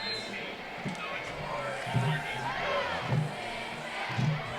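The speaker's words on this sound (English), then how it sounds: "Crowd getting into it." Crowd at a high school varsity football game between Papillion La-Vista Monarchs and Creighton Prep Junior Jays, a broad roar of voices with rhythmic surges of cheering and chanting, under continuous commentary.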